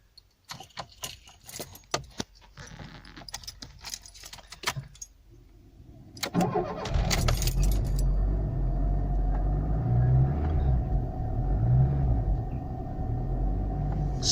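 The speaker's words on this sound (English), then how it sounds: "So here's the first cold start." Keys jangle and rattle in the ignition of a Lancia Delta HF Turbo, then the engine cranks and catches on a cold start, settling into a steady close idle rumble.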